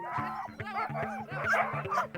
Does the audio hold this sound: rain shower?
no